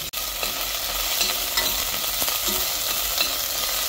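Onion and garlic sautéing in canola oil in a pan, a steady broad sizzle with occasional stirring scrapes, close and continuous, no talking.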